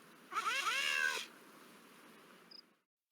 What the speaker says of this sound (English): Who's my favorite robotic cat?